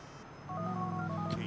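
A cell phone in Grand Theft Auto IV dials out with a quick series of DTMF keypad beeps, clear and close, followed by a short ringing tone.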